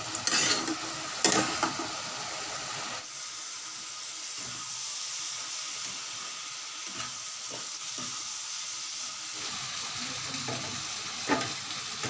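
Vegetables seasoned with salt and green chili sizzle steadily in a pan, with the scrape and clatter of a spoon stirring them and a few louder knocks against the metal, close by and with no talking.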